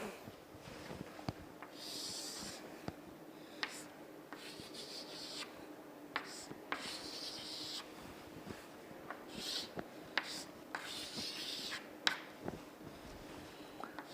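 A pen draws a diagram on paper in a quiet room, giving faint, close scratching strokes in irregular short bursts, with small taps and pauses between lines.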